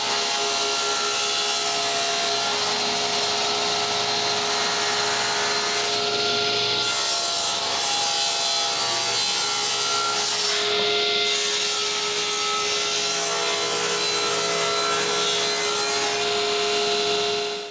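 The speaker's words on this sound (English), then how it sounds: "Now I need to cut more plywood for the external structure." A saw cuts plywood for an external structure, giving a continuous loud rasping, grinding whine with a steady tone and two brief breaks in the cut.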